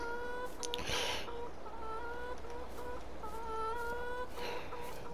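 Chickens cluck repeatedly in a Farming Simulator 22 farmyard, a steady series of short, evenly spaced tonal clucks over faint ambient background, with occasional soft clicks in between.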